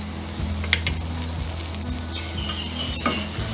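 Tomato masala with turmeric and coriander powder stir-fried in a pan for a crab curry, a loud continuous sizzle broken by regular spatula scrapes and knocks against the metal, close by, no voices.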